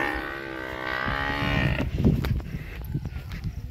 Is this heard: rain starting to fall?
no